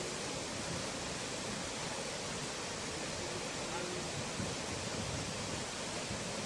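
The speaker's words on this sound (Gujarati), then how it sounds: "ભારે પ્રમાણમાં ધોધ પર પાણી વહેતું જોઈ શકાય છે" Floodwater rushes over Jamjir waterfall on the swollen Singoda river in the Gir forest, a loud, steady, broadband roar of falling water that stays unbroken and close throughout.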